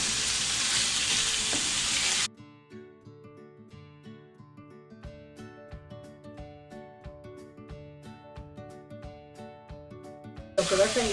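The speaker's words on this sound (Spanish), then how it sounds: "Que se vaya mezclando la cebolla, el ajo y el chile poblano." Onion, garlic and poblano chile fry loudly in a pan with a dense hiss for about two seconds. Plucked music then plays alone, and the sizzle briefly returns at the end.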